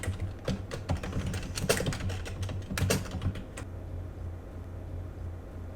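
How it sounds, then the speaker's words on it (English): Rapid clicking as notes are typed on a computer keyboard, close and busy for about three and a half seconds, then quiet room tone. "Next, I'm just going to go ahead and type out my notes."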